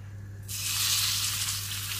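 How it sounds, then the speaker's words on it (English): Meat hits hot oil at about half a second and a loud, steady sizzle follows, bright and close, with a low hum underneath. "You really want that nice sizzle."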